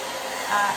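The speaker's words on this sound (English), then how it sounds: "you don't kiss the blow dryer to the brush" Hair dryer blowing steadily and close during a round brush blow dry, a continuous broadband whoosh that swells slightly near the end.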